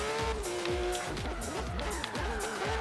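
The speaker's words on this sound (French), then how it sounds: "Tranquillement en drift, l'arrivée" A car drifts toward the finish line in Forza Horizon 3, its engine roaring loud and close with rising and falling revs as the tires squeal in a continuous slide.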